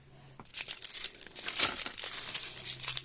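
A plastic bead bag for bracelets being cut open with scissors, close up, with repeated crinkling and crackling bursts of plastic and a sharp snip near the middle.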